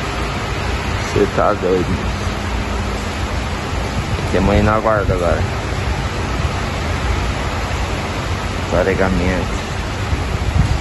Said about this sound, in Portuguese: Aqui, ó, chuvarada.